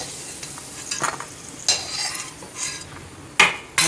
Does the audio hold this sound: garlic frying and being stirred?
yes